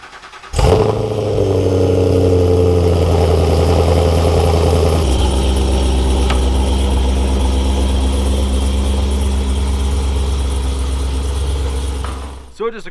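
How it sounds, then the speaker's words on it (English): Chevrolet Camaro ZL1 cold start: a sharp crank and catch, then a loud, high fast idle that drops to a lower, steadier rumble partway through and runs on until it cuts off near the end. "So it's time for a cold start."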